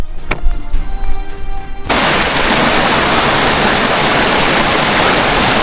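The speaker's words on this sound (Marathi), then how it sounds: "धरणाचे ओव्हरफ्लो पाणी या ओढ्याच्या मार्गे बाहेर पडते" Rushing stream carrying overflow water from a dam through dense forest in Yavatmal, a steady loud broadband roar that starts abruptly after a short stretch of quieter sound and then continues unbroken.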